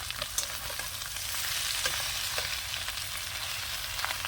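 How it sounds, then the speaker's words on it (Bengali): Chopped taro leaves dropped into hot oil with fried garlic give off a steady, close crackling sizzle with scattered sharp pops throughout, no voices. "এবার এই যে শাক দিয়ে দিচ্ছি কচু শাক"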